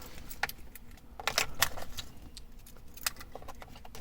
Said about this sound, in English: So let me find the keys,